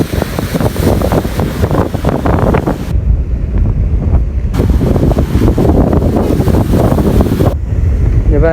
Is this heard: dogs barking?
no